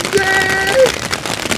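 Steady rain falls outdoors as a dense, broadband patter of drops, loud and close, with a faint tonal whine drifting through it.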